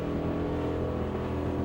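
A Ford Capri with a 350-cubic-inch small-block Chev engine roars through a hard rev during a burnout contest, a loud, continuous, close engine howl.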